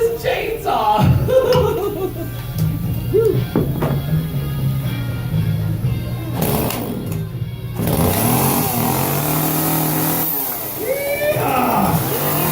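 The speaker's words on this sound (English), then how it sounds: "You want to see the chainsaw running, right?" A chainsaw runs during a live stage performance, its small engine droning steadily near the mic with uneven revs that rise and fall, louder bursts toward the end, with faint crowd noise around it.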